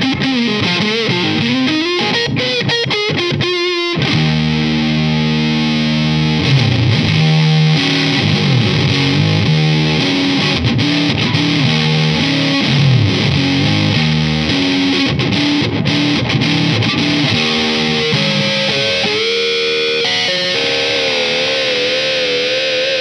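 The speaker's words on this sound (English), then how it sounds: "you want to play some fuzz, spend 30 quid and get a Creepy Clown Fuzz from Big Tower Effects" Electric guitar played through a Big Top Effects Creepy Clown Fuzz pedal, a thick, saturated fuzz tone with sustained chords and melodic runs, steady and loud throughout with no talking.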